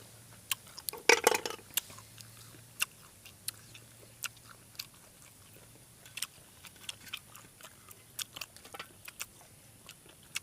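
Large apple snails with spicy dipping sauce being chewed outdoors, sharp crunchy bites in a burst early on followed by scattered crisp crunches and clicks, close and fairly quiet.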